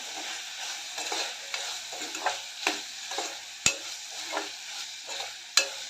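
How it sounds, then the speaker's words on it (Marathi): Potato and finely crushed garlic are sautéed in a pan for a pawata and potato bhaji. A soft sizzle is repeatedly stirred with rhythmic scraping strokes, and two sharp metallic knocks stand out. Nobody speaks. "बटाटा बारीक कुटलेला लसूण ब बटाटा घालून चांगलं परतून घेते एक दोन मिनटं"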